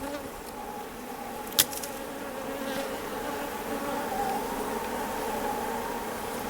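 Honeybees buzzing around an open hive as a virgin queen is introduced, a steady close drone of many wings with one brief sharp knock partway through.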